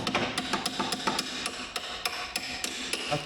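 A hammer strikes a coned-end bolt on a Toyota Corolla during clutch work, giving about a dozen sharp metallic blows in a steady, fairly quick rhythm, close and loud.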